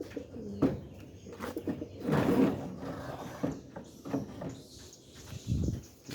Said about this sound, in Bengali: আমি এই যে কবুতরের খোপগুলো ছেড়ে দিব